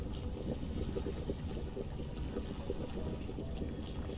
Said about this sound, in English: Let me drink some water here.